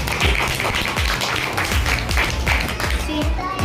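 Enthusiastic applause from an audience at a school child parliament event honoring a student speaker, dense steady clapping close by that continues without a break.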